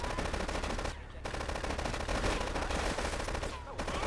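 AK rifle fire in the video game GTA III, set in Liberty City, crackles in loud, sustained automatic bursts, broken by two short pauses.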